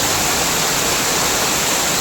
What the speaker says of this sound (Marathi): इकडनं पण पाणी पडतं